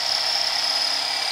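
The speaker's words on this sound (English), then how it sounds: "Drill the other two." Steady high-pitched whine of an electric drill boring holes, loud and close, running continuously without a break, while fitting a 6.2 LS engine into a 1957 Chevy Bel Air.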